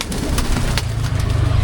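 Pet pigeons or doves in a backyard coop coo in low, soft, repeated murmurs close by, with brief flutters and rustles above them and no talking.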